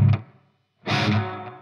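An electric guitar rings out through a big reverb and a light distortion pedal on a clean amp channel: a short chord that decays into silence, then a louder sustained strum with a washy tail.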